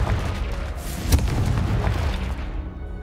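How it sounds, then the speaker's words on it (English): Booming, crunching destruction of boxes hit by spells in Hogwarts Legacy, a loud continuous rumble with one sharper burst about a third of the way through, no talking. "I'm gonna destroy more of your boxes."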